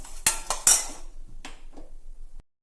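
A metal spoon clanks a few times against a pan while chickpeas, roasted gram and curry leaves are stirred and fried; the sharp knocks come close together early, then give way to a quiet low rustle.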